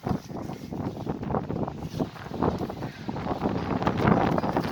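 Strong wind blows outdoors in snow, roaring and buffeting the microphone in uneven gusts that build toward the end, loud and close with no speech.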